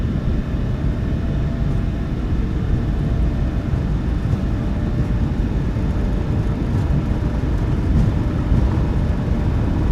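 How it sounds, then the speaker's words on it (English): Boeing 737-800 engines spool at takeoff power in a flight simulator game, a loud, steady, low roaring rumble with a faint high whine, continuous and unbroken for about ten seconds. "Takeoff power set."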